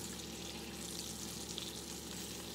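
A catfish fillet sears in a pan on an electric stove set low, giving a steady, even sizzle with no break and no talking.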